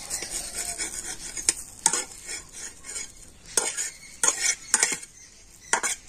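Homemade whole-wheat flour chowmein noodles are stirred in a pan over a low flame, with a metal utensil clinking and scraping in irregular strokes over a soft sizzle, close up and with no talk.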